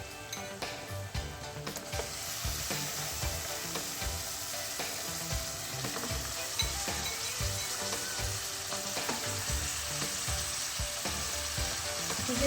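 Goat meat added to lightly golden onions frying in a pan, giving a steady, loud, dense sizzle with small stirring clicks throughout, no voices.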